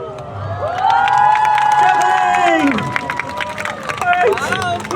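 A street busker crowd on Orchard Road cheers and shouts after a juggling trick, loud excited voices rising and falling with some scattered clapping and children's shrieks mixed in.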